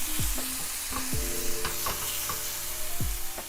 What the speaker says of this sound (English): medium flame, pan on, a little hit of butter, onions in